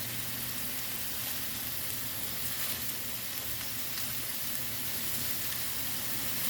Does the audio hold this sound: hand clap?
no